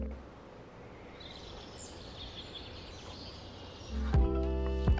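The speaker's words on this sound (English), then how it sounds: "Adding spatial audio notes with the sound of birds in the woods was a very simple task" Birdsong ambience from the woods in a Godot city builder game, with faint chirps and calls over a steady low background, then a louder tonal burst near the end.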